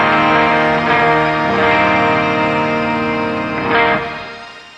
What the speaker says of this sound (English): Turn the reverb on. Let's go with the shimmer.